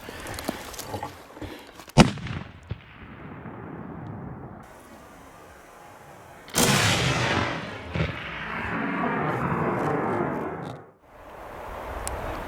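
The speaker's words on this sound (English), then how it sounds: "Nice shooting, Tex." Rifle shots ring out at a backcountry black bear hunt in the Idaho mountains: a sharp report near two seconds and a louder blast at six and a half seconds, each trailing into rumbling echo, with smaller cracks between.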